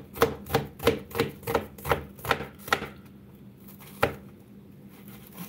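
An onion is chopped on a cutting board with a quick run of about eight crisp, evenly spaced knife strikes, then a pause, one last sharp chop and a faint tap, close and clear with no talking.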